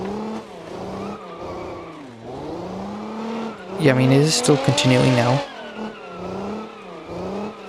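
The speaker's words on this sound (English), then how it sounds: "Engine is starved for oil, so..." An oil-starved, damaged car engine in BeamNG.drive strains with a wavering, droning rev that rises and falls, briefly flaring into a harsh loud grind with tire screech midway, as someone talks over it.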